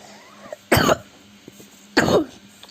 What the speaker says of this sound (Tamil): ஏன்னா எப்படி லொக்குன்னு இருமுறேன் ஏன்னா ஃபீவரு கொஞ்சம்